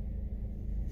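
A bus passes outdoors on a nature walk, a close, steady low engine rumble filling the brief moment without any talking.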